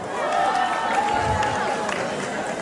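A crowd at a navétane neighborhood football event in Senegal cheers and applauds for the team ASC Gamrou: a steady, dense roar of clapping and voices that swells early and holds loud throughout.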